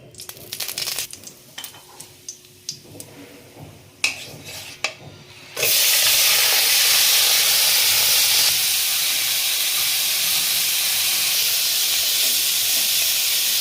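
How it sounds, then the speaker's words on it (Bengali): Prawns for a coconut-milk malai curry hit a little hot oil in a pan: a few quiet clicks and knocks come first, then a sudden loud, steady sizzling hiss that continues close up to the end. "গরম হয়ে গেছে অল্প তেল দিয়ে আমি মাছটা সাঁতলে নেব"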